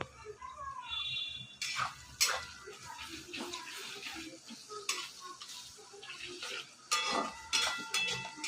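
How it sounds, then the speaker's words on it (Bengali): Onions fry in a pan with a steady sizzle while a utensil stirs and scrapes the metal, giving repeated clanks and scraping bursts at close range. "এবার পেঁয়াজটা ভেজে নেবো"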